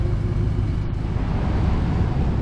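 A car idles steadily while being tested at a workshop after a gearbox flywheel replacement, heard from outside the vehicle as a continuous low engine rumble with no talking.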